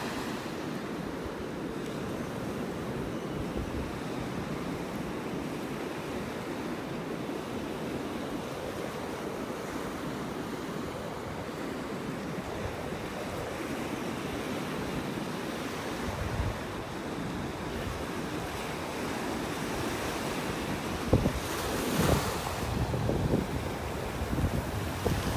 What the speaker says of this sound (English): Waves out there this morning.